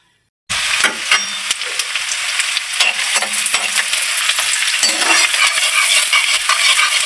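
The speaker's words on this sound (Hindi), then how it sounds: "एक कढ़ाई में तेल भी डाल दिया है। ये तड़का है।" Tadka frying in hot oil in a kadhai, cooked for an aloo gobhi sabzi: a bright, steady crackling sizzle that starts abruptly and keeps going, with spatters and stirring clicks, up close and without speech.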